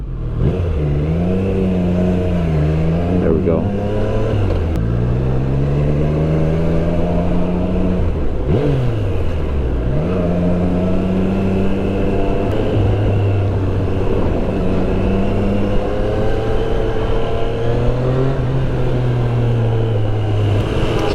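A 2020 Triumph Street Triple R motorcycle engine revving on a city ride, loud and close, its pitch repeatedly climbing and dropping through several rev cycles over steady wind noise.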